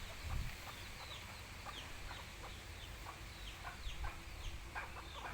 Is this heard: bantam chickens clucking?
yes